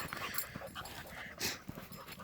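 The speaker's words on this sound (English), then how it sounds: "She's kind of a close hunting dog, but she's young." A five-month-old female hunting dog pants close by outdoors during a shed antler hunt, with quick rhythmic breaths and a few soft whimpers over rustling movement.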